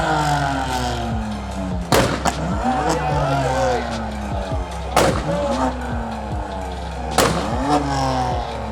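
Revving BMW engines at a large BMW car show, loud sharp throttle blips repeating every couple of seconds over a constant engine drone, with crowd noise and voices throughout.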